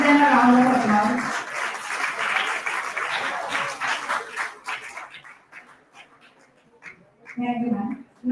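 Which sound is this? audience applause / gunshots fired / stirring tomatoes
audience applause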